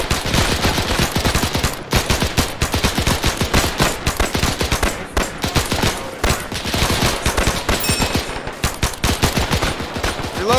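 Video game machine guns open fire on a POW camp, with sustained rapid bursts of automatic gunfire, several weapons overlapping in a loud continuous fusillade and only brief gaps between volleys.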